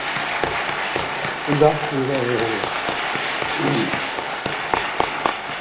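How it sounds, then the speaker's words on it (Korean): Church congregation clapping in encouragement for a young middle-school organ accompanist, a broad steady patter of applause with a voice speaking briefly over it. "격려의 박수를 한번"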